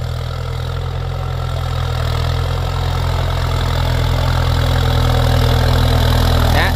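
A 7610S tractor engine pulling a six-disc plough at around 1,200 rpm, a loud, steady diesel drone close by that holds without a break throughout.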